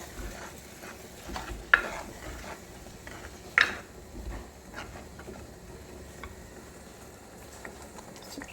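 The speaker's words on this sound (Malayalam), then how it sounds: "നന്നായിട്ട് മിക്സ് ചെയ്യാം" A spoon stirs rasam in a pot after tamarind extract is added, soft scraping and faint liquid movement with two sharp clinks against the vessel, close and quiet, no talking.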